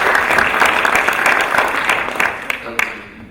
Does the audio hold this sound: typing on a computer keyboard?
no